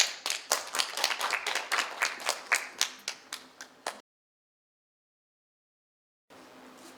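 Audience clapping to welcome a speaker at a Korean volunteer-service ignite talk event, with loud, distinct claps for about four seconds, then silence before a quiet room-tone hum returns.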